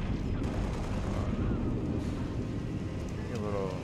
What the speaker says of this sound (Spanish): Escucho tiros, pero yo no.